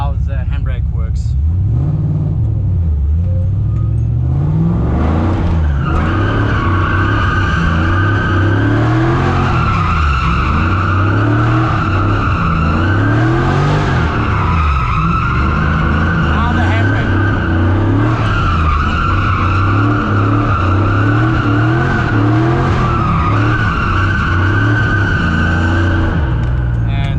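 A car drifts on a practice course using the handbrake, its tires squealing in long sweeping skids over a loud revving engine that rises and falls throughout, close and continuous.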